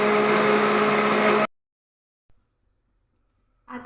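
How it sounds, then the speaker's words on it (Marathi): A mixer grinder whirs loudly and steadily while blending dhokla batter of sugar, lemon juice, oil, water, turmeric and salt, then stops abruptly into silence, with a faint clatter near the end. "आता हे आपण मिक्सरमधून काढून घेऊ।"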